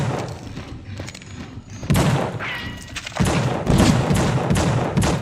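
Enemies fire guns in The Suffering, a rapid irregular volley of close, sharp shots and thuds that grows denser and louder toward the end, with a brief whining tone in between.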